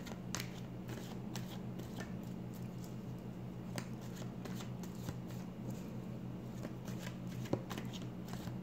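A deck of tarot cards is shuffled quietly and close by, a soft, continuous riffle of papery flicks with occasional sharper taps, set against a low background hum.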